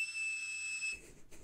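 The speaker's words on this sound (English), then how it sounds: "To mimic the 2600 hertz tone, some people would even use a toy whistle from a Cap'n Crunch cereal box." Thin, steady high-pitched whistle tone at 2600 hertz, like a Cap'n Crunch cereal-box toy whistle, holding for about a second and then cutting off abruptly into faint noise.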